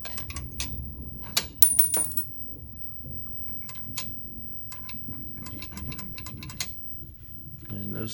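Quarter coins drop into a Space Invaders arcade machine, with several sharp metallic clinks and rattles scattered over a steady low hum from the cabinet, fairly faint and close.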